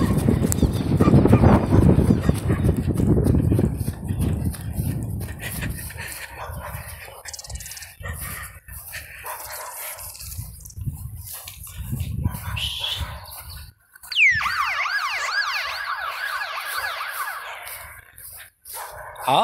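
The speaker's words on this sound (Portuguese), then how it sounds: "Um monte de cachorro, tem que pegar um." Several dogs barking and yelping among the stands of a football stadium, loud and close, with a busy, noisy crowd atmosphere and voices in the background.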